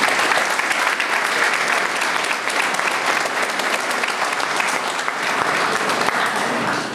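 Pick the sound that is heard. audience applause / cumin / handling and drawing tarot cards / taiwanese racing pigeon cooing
audience applause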